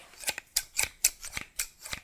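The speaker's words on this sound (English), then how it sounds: "So I got some titanium scissors." Titanium scissors snip and clack repeatedly at close range, about eight crisp metallic bursts in an even rhythm, with no talking.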